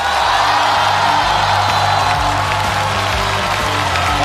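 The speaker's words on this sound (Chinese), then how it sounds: "让我们把热烈的掌声献给这些真心英雄" A large audience applauding at a stage event honouring real-life police heroes, with Jackie Chan on stage: loud, dense, continuous clapping with scattered cheers, filling the whole stretch.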